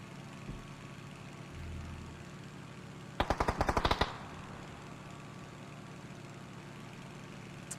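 Rapid automatic gunfire from PUBG, a single burst of about a dozen sharp shots lasting under a second, loud against a low steady background hum.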